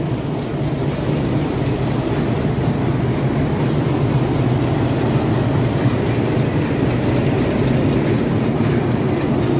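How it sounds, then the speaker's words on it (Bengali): A diesel train locomotive being turned around at a station on the Dhaka to Cox's Bazar line, giving a steady, loud, continuous low rumble and mechanical roar that holds constant throughout, with no talk. "ট্রেনের ইঞ্জিন ঘোরানো হচ্ছে"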